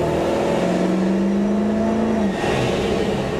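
A 2003 Ford Excursion with a 7.3 diesel engine accelerates, a steady loud drone from inside the vehicle with a rising engine tone that climbs then drops off, no talking.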